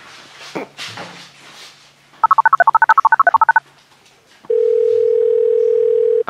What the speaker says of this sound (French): Je vais téléphoner Kevin.